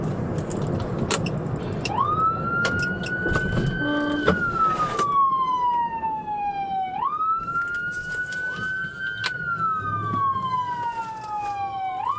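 Police car siren wailing loudly on a highway exit at St. Clair and Superior, rising and falling in long sweeping cycles over steady road and engine noise, close and continuous.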